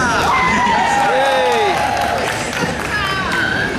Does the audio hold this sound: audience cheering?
yes